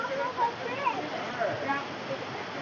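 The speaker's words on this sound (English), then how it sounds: "We'll get a closer shot of the falls" Steady broadband rush of the waterfall in Watkins Glen Gorge, a continuous wash of falling water heard up close with no pauses.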